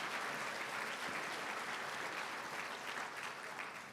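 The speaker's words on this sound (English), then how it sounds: "Round of applause for our third age leaders." A crowd at an awards event for older community leaders gives sustained, even applause, thick clapping from many hands that stays level and fairly distant.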